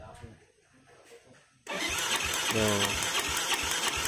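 A Yamaha Jupiter Z motorcycle cranks but fails to start, a sudden loud mechanical churning that begins midway and continues steadily after a quiet stretch with a brief spoken exclamation.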